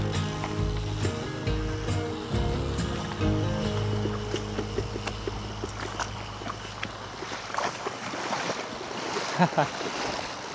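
Water flows and splashes around a bicycle being ridden through a clear, shallow river in Tanay, Rizal, with a rattling, ratcheting texture over a steady rushing wash and low rumbling bumps.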